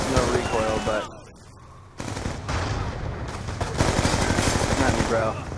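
Rapid automatic gunfire from the video game Black Ops 2, played in a multiplayer hardpoint match, comes in loud, dense bursts with a short lull after the first second and game announcer voices mixed in.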